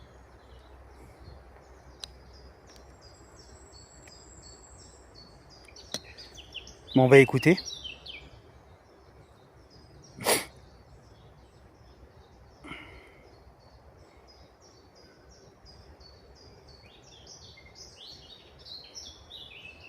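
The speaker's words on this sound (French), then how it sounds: "Ah, écoutez les oiseaux." Birds singing outdoors, with scattered faint chirps and short calls over quiet background, someone speaking briefly in French, and a couple of sharp louder knocks in the middle.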